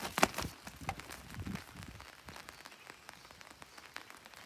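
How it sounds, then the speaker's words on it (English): Rain falling outside on a morning at an old house, a faint steady patter of drops on surfaces with a few sharper nearby taps early on. "It's been raining all morning."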